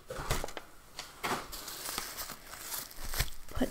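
Packing material is crinkled and rustled close up while a pen is unboxed, with repeated sharp crackling bursts in an irregular rhythm.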